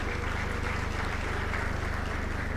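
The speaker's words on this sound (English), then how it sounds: "they deserve a huge round of applause from all of you" An audience at a public event in a village gives sustained, dense applause, loud and continuous with no pauses.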